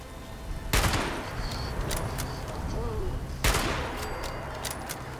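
A hunting rifle in Fallout 76 fires two sharp, loud shots about three seconds apart, each with a short echoing tail, while a voice talks softly in between.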